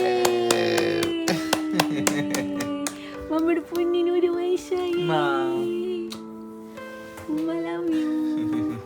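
Hands clap in quick bursts at a birthday celebration, sharp close claps at first, then fading into sung, tuneful voices.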